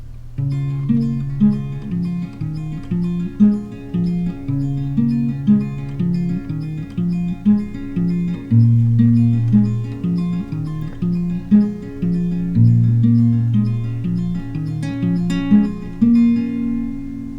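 An acoustic guitar plays a repeating intro pattern, plucked bass notes with higher strings ringing over them, close and clear, no talking.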